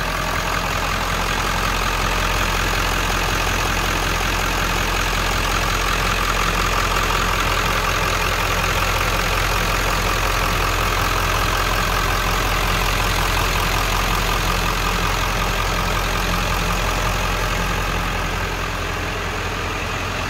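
The engine of a 1997 Ford F350 crew cab pickup idles continuously up close, a steady rumble, loud and unchanging with a low throb throughout.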